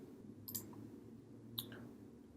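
Two crisp computer mouse clicks about a second apart, quiet and close over a faint steady room hum, no talking.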